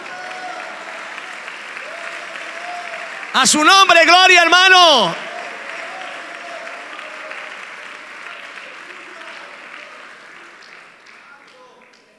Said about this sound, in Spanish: Denle un aplauso a Dios, hermano, alábelo.